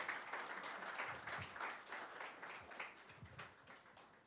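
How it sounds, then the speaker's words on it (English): Applause from the audience at a finance conclave panel welcoming panelists and a moderator, fairly faint and distant, a broad patter of clapping with soft low thumps mixed in. "Let's give them a huge round of applause."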